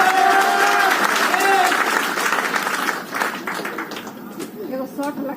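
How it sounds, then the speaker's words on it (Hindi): A seminar crowd at a Modicare training session in Muzaffarpur, Bihar claps loudly at first, then the applause thins and fades while a voice carries over it. "एक जोरदार ताली बजा लो अपने लिए"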